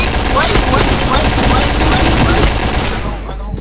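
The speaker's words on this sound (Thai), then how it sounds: "ยิงยิงยิง" Dense rapid gunfire from a video game, loud and continuous bursts like a machine gun fusillade close in the mix, dropping off in the last half second.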